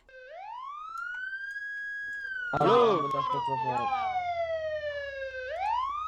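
Ambulance siren in an MTA roleplay video game, a loud rising and falling wail that sweeps up, holds, then drops and climbs again, with shouting voices and game noise over its middle stretch.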